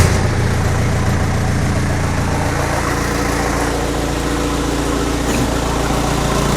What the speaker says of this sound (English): There's also a bit of a hole in the exhaust at the moment, so that'll be making it louder as well.